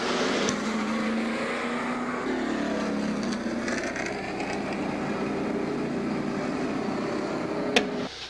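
Pro Stock race cars running on a speedway at night, a steady broad engine roar with shifting pitch that carries without a break, a sharp bang near the end, and no talk.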